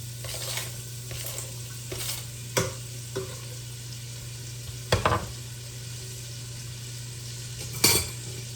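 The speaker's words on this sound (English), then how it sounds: "Gonna go ahead and get my onions in this skillet for my greens." Onions sizzle in a skillet for greens, a steady soft frying hiss under a low hum, punctuated by several sharp utensil scrapes and clanks against the pan.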